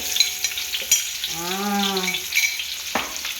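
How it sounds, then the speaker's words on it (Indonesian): Sliced shallots fry in a shallow layer of oil with a continuous soft sizzle and crackle, while a brief sustained voice-like tone rises and falls over it midway. "Sekarang saya mau menggoreng dulu bawang merah yang udah kita iris tadi."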